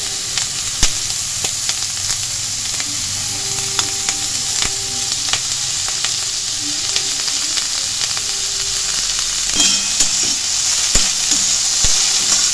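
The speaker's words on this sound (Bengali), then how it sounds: "একটু ভাজা ভাজা করে নিচ্ছি" Torn curry leaves fry in a pan with a loud, continuous sizzle and hiss, broken by sharp crackles and occasional clicks of stirring.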